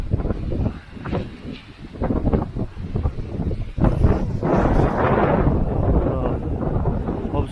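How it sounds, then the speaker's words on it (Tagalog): Strong gusting wind outdoors on a cold day in Belarus, loud buffeting roar against the microphone that swells and intensifies midway, with a voice briefly heard early on. "Sobrang lakas ng hangin yung araw."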